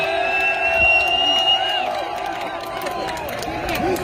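A large crowd at a rally in Washington, DC cheers, applauds and whoops steadily throughout, a dense roar of voices with scattered shouts rising above it.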